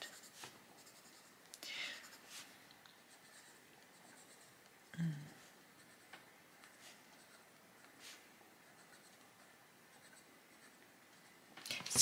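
A pencil colours on paper, with soft, faint scratchy strokes coming in short bursts separated by pauses and a few louder handling bumps near the start and the end.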